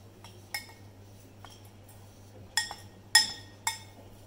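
A spoon clinks against a bowl while fruit, nut and oat ladoo ingredients are stirred together: several light, sharp taps scattered irregularly over a low steady hum.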